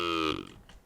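A synthesized cow-like formant tone from Serum 2 holds steady as a buzzy, moo-ish drone, then cuts off and decays with a brief rattly tail.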